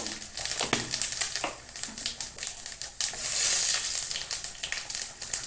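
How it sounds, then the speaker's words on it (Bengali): Cumin seeds crackle and sizzle in hot oil, with quick popping bursts over a steady frying hiss, close up, and stirring clatter. "তেল গরম হয়ে গেছে জিরে ফোড়নে দিয়ে দেবো"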